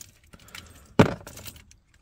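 Car keys for a Ford AU/BA Falcon jangle sharply and briefly as they are handled and swapped over, one clear metallic rattle in the middle of a quiet stretch with faint background noise.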